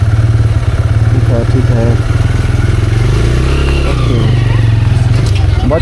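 A motorcycle pulling out near the Manu temple in Manali: a close engine idling and revving in steady pulses, with people talking over it.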